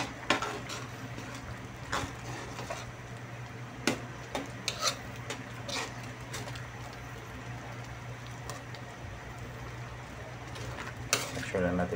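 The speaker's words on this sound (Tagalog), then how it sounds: "Haluin natin." A spoon scrapes and clinks against a pot while pork cubes are stirred into mung bean stew, with uneven rubbing strokes and occasional metallic knocks under a steady background hum.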